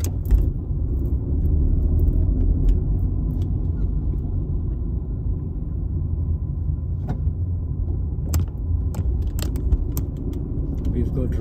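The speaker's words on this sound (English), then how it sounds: "Okay, we are driving out of this shopping center now." A car pulls out of a shopping center in Alberton, Johannesburg, with a steady low engine and road rumble throughout and a few faint clicks and knocks from inside the cabin.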